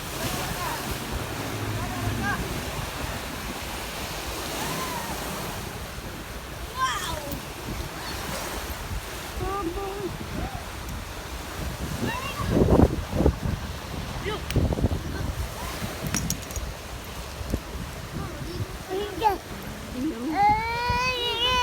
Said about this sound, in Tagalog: Tingnan ng puting-puting alon talaga.